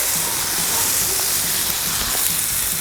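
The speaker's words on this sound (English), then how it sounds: "take your water bottle, get a little bit of steam around these eggs." Water splashed onto a hot Blackstone griddle steams around frying eggs, giving a steady broadband hiss and sizzle that stays loud and even throughout.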